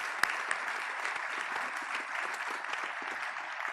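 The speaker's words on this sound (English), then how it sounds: "Let's give them a round of applause" Audience applause at a museum opening ceremony in DC, dense steady clapping from a crowd with a few sharper claps near the start.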